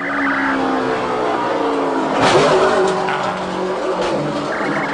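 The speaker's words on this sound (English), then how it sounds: "did that truck hit the wall hard" A NASCAR race truck hits the wall hard at speed: a loud sustained engine roar with a tire skid and a burst of impact noise midway, continuing as other vehicles race past.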